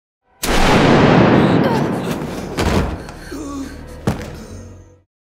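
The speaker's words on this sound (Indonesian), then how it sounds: "Mendengar itu, Delen langsung menembak Dr. Antonio Taylor" A gunshot in a Resident Evil zombie film erupts as one sudden loud blast with a long rumbling decay, followed by a few heavier thuds and a sharp crack under a low, sustained film soundtrack.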